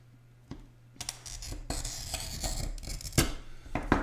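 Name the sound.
glass cutter scoring soft glass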